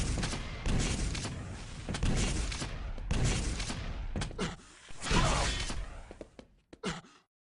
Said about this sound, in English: just so many rocket jumps coming out from Avik at the moment